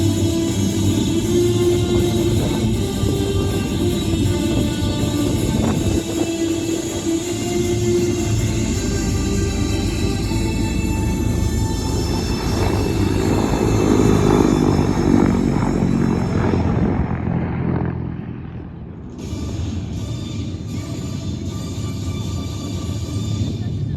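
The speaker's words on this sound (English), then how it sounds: "Sense the weight of that helicopter, well over 10 tons as it goes by." A Marine Corps Super Stallion heavy helicopter passes at an airshow, its loud rotor and engine roar building, peaking, then fading away, with crowd noise underneath.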